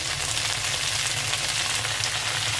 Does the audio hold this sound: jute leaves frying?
yes